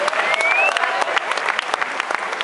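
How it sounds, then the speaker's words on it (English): An audience applauds at a jazz radio station's evening keyboard showcase, steady dense clapping filling the room for a couple of seconds, with a faint whistle rising over it near the start. "I want you to give yourself a round of applause"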